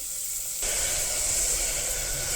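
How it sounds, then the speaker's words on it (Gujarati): Chopped onion goes into hot oil seasoned with asafoetida, setting off a sudden loud, steady, close sizzle that keeps hissing without letup. "હિંગ નાખ્યા પછી આપણે જે ડુંગળી પીસીને રાખી હતી, કટ કરીને રાખી હતી, એ નાખીશું."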